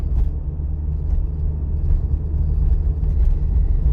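A manual-transmission car driving at 45 km/h in third gear, heard from inside the cabin as a steady low engine and road rumble with faint thumps, with no talking.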